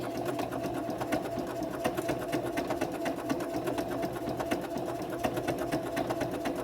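A sewing machine fitted with a cording foot stitches over cords at a steady medium speed, its rapid, even needle rattle running continuously and close up with no talking.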